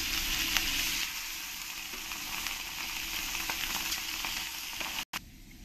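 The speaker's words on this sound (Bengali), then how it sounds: "পরের মাছগুলো আমি একই রকম করে ভেজে নেব।" Pieces of rui fish fry in hot oil with a constant crackling sizzle, close and continuous, briefly cut off near the end.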